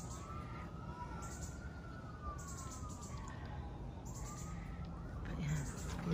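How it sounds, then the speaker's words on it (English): Faint sirens wail in the distance, rising and falling beneath a steady hum of outdoor noise, with brief voices nearby. "the sirens"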